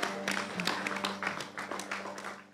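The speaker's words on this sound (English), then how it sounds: "You can give him a hand clap and praise anytime you want to." Scattered hand claps rise from a church congregation during a sermon, fairly soft, irregular claps over a sustained musical tone.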